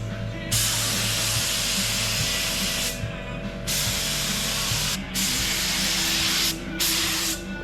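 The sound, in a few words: spray gun painting truck tub yellow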